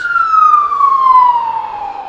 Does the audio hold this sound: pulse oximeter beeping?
no